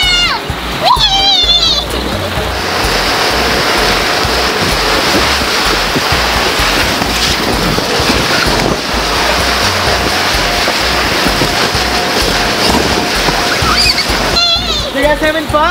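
Continuous loud splashing and churning water at a playground water slide, with children sliding down, shouting and chattering throughout, close and busy.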